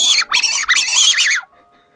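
A crow lets out a loud, harsh squawk in a few rapid bursts close by, then goes quiet.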